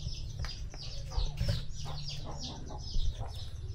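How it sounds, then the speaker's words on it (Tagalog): Hens cluck softly among young hatched chicks in a farmyard, one laying hen in the group, with faint chirps over a steady low rumble, close and continuous. "Mayroon na namang bagong nangingitlog dito mga kapangil."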